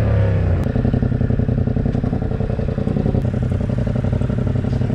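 A Venom X18R 200cc motorcycle rides along with a steady, loud, close engine drone and rattling clatter that fills the whole stretch without pause.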